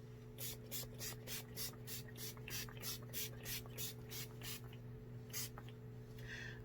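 Tarte Stay Spray setting spray misted onto a face: a quick run of about fifteen short, even hissing bursts in steady rhythm, close and fairly soft over a low electrical hum.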